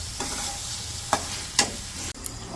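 Pre-fried meat stir-fried (kosha) in a pan, a continuous sizzle with a few sharp scrapes and clinks of the spatula against the pan, close and without speech.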